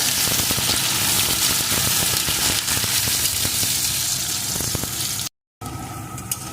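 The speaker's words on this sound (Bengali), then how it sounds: "এখন এর ভিতরে আমি দিয়ে দেবো টুকরো করে কেটে রাখা আলু পেঁয়াজটাও একটু ভেজে নেব পেঁয়াজের সাথে" Potato pieces and onion fry in hot oil for a Bengali shing fish curry with potato, bori and eggplant, giving a steady, close, broadband sizzle that runs without a break before a short cut and a quieter stretch.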